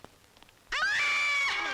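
A comic doorbell that imitates a woman screaming: a loud, sustained, shrill wail rising in pitch after a few faint soft taps, close and alone without talk.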